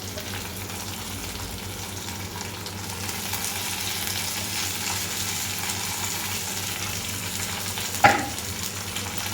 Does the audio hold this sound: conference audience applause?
no